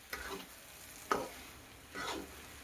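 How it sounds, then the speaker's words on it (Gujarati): Semolina sheera with sugar and milk is stirred in a pan, three soft scraping strokes with a faint sizzle, quiet and close with no talk. "આપણે હલાવતું રહેવાનું, નકર તળિયે સોટી જાય તો પછી દાજની વાસ પડી જાય."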